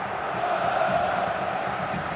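A steady roar of stadium crowd noise from the EA Sports FC Mobile football game, a dense, sustained wash at moderate level with no distinct peaks.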